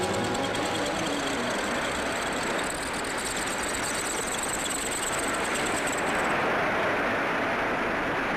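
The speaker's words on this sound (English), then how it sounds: "Masses of machine heads carrying gangs of tools advance and withdraw with the precision of guardsmen on parade." Automated factory machine tools, with machine heads carrying gangs of tools advancing and withdrawing, run as a dense, continuous mechanical roar with a steady high whine that cuts off near the end, heard without any talking.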